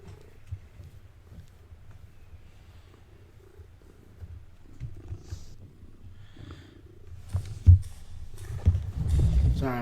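A cat purrs softly and steadily in front of a TV, a low rumbling drone that rises into louder rough snuffling and movement near the end.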